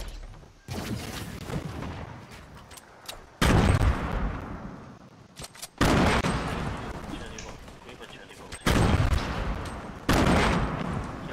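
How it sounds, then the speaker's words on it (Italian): Repeated loud volleys of gunfire and blasts during a Fortnite 50v50 match, arriving in several sharp bursts that decay between them, with players talking over the action. "La gente spara"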